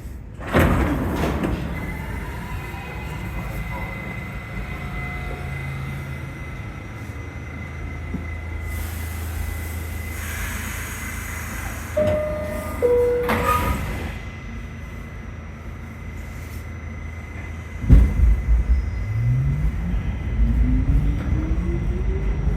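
New York City subway car near Rockefeller Center at 5 AM rumbling along steadily, with doors sliding and thumping partway through, then a rising electric motor whine as the train pulls away.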